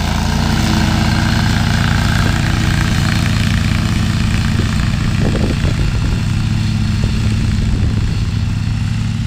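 A Toro 6000 commercial mower cuts through a tall field with a loud, constant engine drone and low rumble, close by and running steadily throughout, with brief irregular rattles from the cutting midway.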